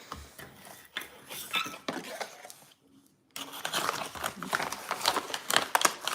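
A magic eraser scrubs a small pen mark in a rough, rasping rub of short strokes at close range, pausing briefly before resuming more vigorously.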